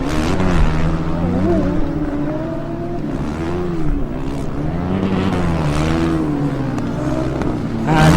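Formula Student race cars in the endurance final at Formula Student Germany crossing the line, their engine drone steady and fairly loud throughout with rising and falling pitch, and a commentator's voice running over it.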